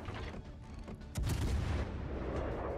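Naval artillery fire in World of Warships: Legends, a quiet rumble broken by a heavy booming salvo about a second in, followed by a rolling low-frequency roar that lingers.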